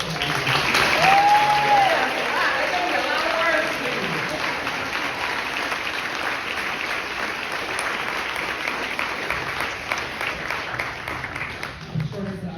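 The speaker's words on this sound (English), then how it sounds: "Let's clap it up for Darnell." Audience applause fills an awards ceremony for state service volunteers, a steady dense clapping that swells early and carries on throughout, with voices and some talk mixed underneath.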